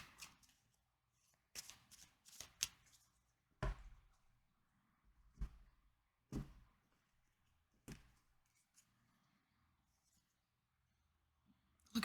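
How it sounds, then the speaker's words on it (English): Tarot cards being shuffled by hand, crisp riffling bursts and soft slaps recurring every second or two across a quiet room, close and moderately loud, with no talking. "let's pull a couple tarot cards"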